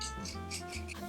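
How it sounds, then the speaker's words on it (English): A spoon scrapes the seeds out of a halved, peeled cucumber in a few quick, rough, rasping strokes, close and moderately loud, with no voices. "deseed them with a spoon just scrape out the seeds"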